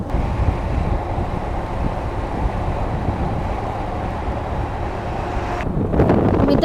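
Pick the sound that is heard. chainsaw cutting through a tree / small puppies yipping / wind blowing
wind blowing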